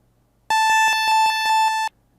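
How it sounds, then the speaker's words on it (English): A Roland D-50 synthesizer plays a quick patterned sequence of bright, buzzy electronic tones, roughly eight pulses over under two seconds, clear and alone against silence. "our special shades function, which plays tones in specific pattern"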